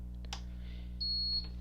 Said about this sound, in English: and it beeps when it turns on,